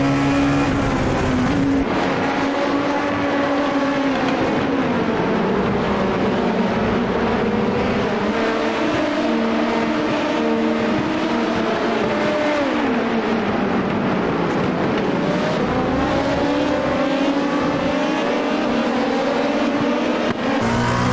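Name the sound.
race cars on track at Suzuka, Dallara P217 in iRacing video game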